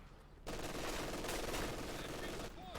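Sustained machine-gun fire in the Company of Heroes 2 strategy game, a dense continuous rattle of rapid shots lasting a couple of seconds amid battle noise, with a commentator's voice faintly underneath.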